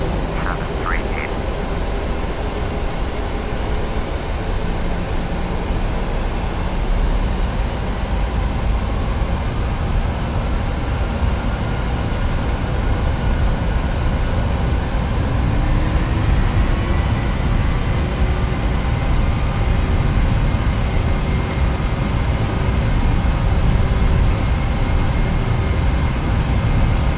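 Simulated Halifax aircraft on its takeoff roll down runway 5 in Microsoft Flight Simulator X, a steady loud engine roar and broadband rumble holding throughout with no talk.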